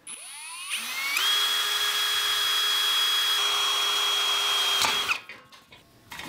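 An electric drill with a 7/32 bit bores a hole into a protective board on an e-bike rack, starting with a rising whine, holding a steady high-pitched spin for several seconds, then stopping abruptly, loud and close.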